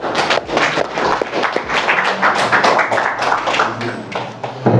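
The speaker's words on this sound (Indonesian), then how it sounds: "Tepuk tangan untuk kita semua" Audience in a classroom discussion clapping, a dense burst of many hands close by that holds steady for several seconds, with a few voices mixed in.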